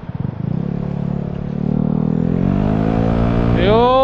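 Scooter exhaust with its dB killer removed, from an Italjet Dragster 200, Vespa GTS300 or S125, rumbling loudly at idle and then revving up into a rising, throaty roar.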